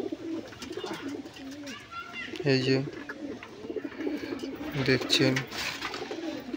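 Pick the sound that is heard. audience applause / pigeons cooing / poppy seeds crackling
pigeons cooing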